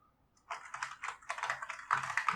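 Keys clatter on a computer keyboard hooked up through internal USB ports as a PIN is typed, a quick irregular run of close, crisp clicks after a brief quiet start.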